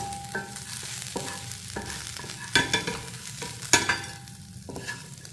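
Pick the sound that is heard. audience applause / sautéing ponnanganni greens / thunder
sautéing ponnanganni greens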